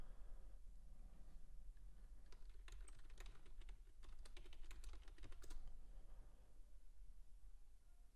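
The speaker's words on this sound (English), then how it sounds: "If you do hear typing, that's just me making alerts in the chat room." Computer keyboard typing in quick, close clicks clustered in a short burst midway, over a quiet room hum.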